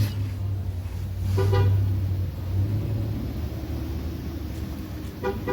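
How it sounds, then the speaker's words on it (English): A car horn toots a couple of times over the steady rumble of traffic, one longer honk early and a short one near the end. "What are you honking at?"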